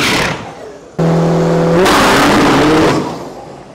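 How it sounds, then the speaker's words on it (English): A diesel drag racing truck at an Isuzu race event in Thailand roars loudly, its engine rising into a sustained high-revving wail with tire noise, then fading slightly at the end. "let's see if we can get a view of this burnout over here"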